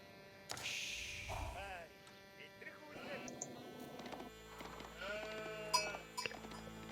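Sheep bleat several times in an Age of Empires match against a Mongol player, with short wavering cries over a soft game hum and other faint in-game effects.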